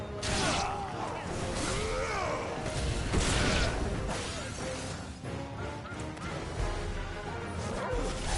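Dogs bark in a Final Fantasy XVI game scene, yips and crashes mixing with combat impacts and voices over a continuous dense soundtrack.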